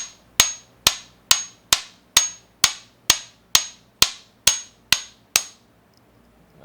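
A hammer strikes a geode eleven times in a steady rhythm, each hit a sharp, ringing crack, then silence.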